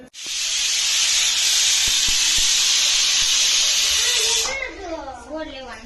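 A pressure cooker whistle shrieks loudly and steadily for about four seconds while vegetable pulav cooks, then cuts off as a voice begins speaking.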